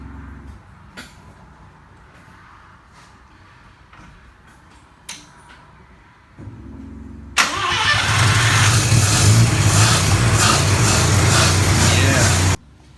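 Mazda RX7 rotary engine cranks over a few quiet seconds, then catches and runs loud and steady at close range, roaring for about five seconds before cutting off abruptly; voices can be heard under the early cranking.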